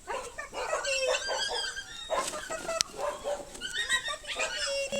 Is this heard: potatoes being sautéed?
no